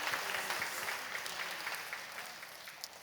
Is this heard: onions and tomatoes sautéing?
no